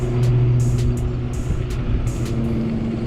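ANCHEER 500W electric bike with 14-inch wheels cruising steadily at 17.5 mph, a continuous low motor hum and rolling road noise with brief higher hissing bursts of wind, close and fairly loud.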